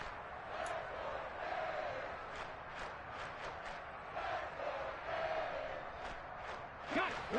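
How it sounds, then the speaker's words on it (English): Stadium crowd in the Madden 23 football video game roars steadily as a big third down approaches, a broad continuous cheer with swells and a few sharper shouts near the end. "the crowd getting into it as we come up on a big third down"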